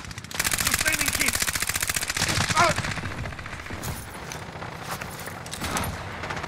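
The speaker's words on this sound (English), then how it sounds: "I'm taking fire!" Rapid automatic gunfire bursts in a Call of Duty match on the Verdansk map, loud and dense at first, then thinning into scattered shots and impacts.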